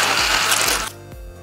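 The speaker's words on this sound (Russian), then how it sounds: "И все это тщательно перебьем блендером." An electric blender purees a liver mixture for a liver cake, whirring in loud pulsing bursts before its motor drops to a lower hum near the end.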